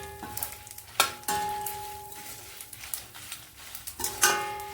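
Asafoetida dropped into hot oil in a pan, giving a close, steady sizzle and frying crackle with a few sharp clinks of a spoon against the pan.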